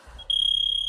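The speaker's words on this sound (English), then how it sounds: "This thing's going to beep in a sec if I catch it." Taekwondo training device gives a sharp, high electronic beep that starts abruptly and holds steady, loud and close, after a brief low murmur of movement.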